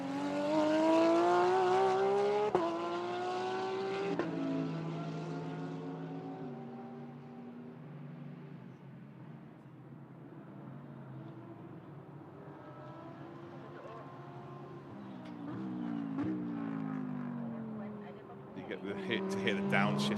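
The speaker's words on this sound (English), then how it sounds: "To hear the downshift of that Porsche. Very distinct sound." A Porsche GT race car at the Sepang circuit during a 12-hour endurance race drops through the gears, its engine note falling in steps with sharp blips as it passes, loud and then fading, under commentary.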